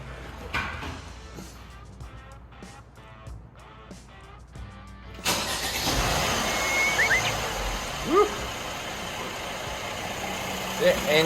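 A Mercedes-Benz car engine cranks and fires, then settles into a steady, fairly loud idle close by. Speech is heard before the engine starts.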